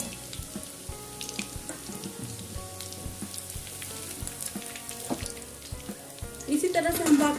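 Soya chunks frying in hot oil in a kadhai, a soft continuous sizzle with clinks and stirring sounds, then a louder bubbling burst near the end.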